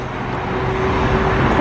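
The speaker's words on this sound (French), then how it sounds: "regarde, toutes les voitures." Dense city traffic in Paris on a hot, hazy day, with cars passing in a steady broadband rumble that grows slightly louder, close by and continuous.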